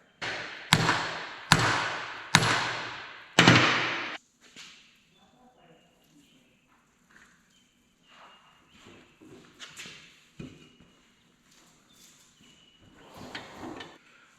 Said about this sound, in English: we pounded an extractor in there